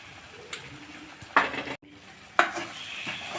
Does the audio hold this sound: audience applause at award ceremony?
no